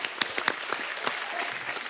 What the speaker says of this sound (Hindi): इनके लिए सच्चे दिल से तालियां।